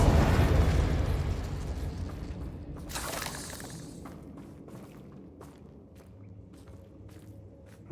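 The Confringo spell detonates in Hogwarts Legacy, a loud booming explosion at the start that rolls off into a long fading rumble, with a brief crackling burst midway and scattered small impacts as it dies away.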